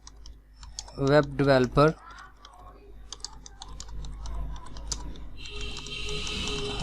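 Someone types on a computer keyboard, quick light clicks running steadily after a short burst of speech, close and fairly clear.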